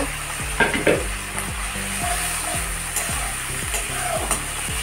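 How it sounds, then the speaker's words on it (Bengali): Spices and tomatoes fry in a pan, a steady close sizzle with a regular pulsing rhythm of stirring strokes repeating every half second or so throughout. "দুটা টমেটো দিয়ে দেবো, দিয়ে ভালো করে কষে নেব।"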